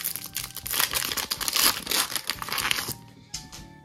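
Pokémon booster pack wrapper from a Twilight Masquerade tripack case being torn open and crinkled, dense crackling plastic rustle close up for about three seconds, then quieter scattered crinkles.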